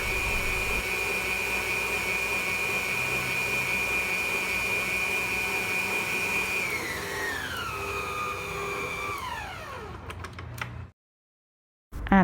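An electric mixer whirs steadily through butter cake batter, then its pitch slides downward as it is slowed to low speed and switched off, leaving a brief silence before a final clunk.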